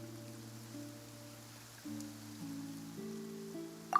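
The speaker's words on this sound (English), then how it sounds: "Now that I think of it, on the day my father was convicted of murder, it was also raining." Steady rain falls in a video game scene, a soft, even hiss heard faintly beneath sustained low musical tones.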